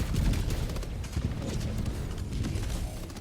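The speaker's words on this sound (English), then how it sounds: "our teammate will clean them up with the machine gun" A teammate's machine gun in Helldivers 2 fires rapid, dense bursts that rattle continuously against a rumbling battle backdrop, fighting Illuminate forces from high ground.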